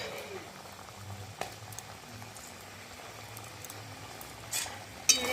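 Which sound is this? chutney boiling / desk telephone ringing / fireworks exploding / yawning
chutney boiling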